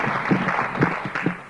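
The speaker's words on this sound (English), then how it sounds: "Give the Lord a hand clap." A church congregation clapping hands in praise, a short dense burst of many hands with a few louder beats standing out, fairly near and alone.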